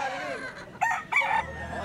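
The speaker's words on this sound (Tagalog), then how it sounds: "mga manok ni Boss Jun yun" Roosters at a gamefowl sale in the Philippines give two short, loud crowing bursts close by, about a third of a second apart, over faint background noise.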